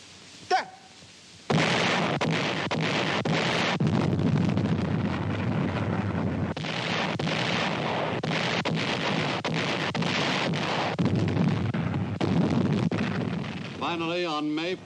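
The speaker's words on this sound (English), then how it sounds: "For almost a month, the Japanese bombarded the island fortress with every weapon at their command." A wartime artillery bombardment of the Corregidor island fortress as a sound effect: a sustained rumbling roar of heavy guns and explosions with overlapping booms, loud and dense throughout, under a narrating voice.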